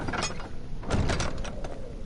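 A door swings shut in the PS4 horror game Amnesia, a few dull knocks and scrapes spread over about two seconds against a steady background rumble.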